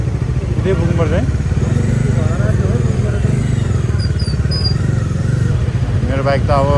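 A motorcycle engine runs steadily while riding along a road on a Maghe Sankranti outing, a continuous mid-pitched drone throughout, with someone talking over it much of the time.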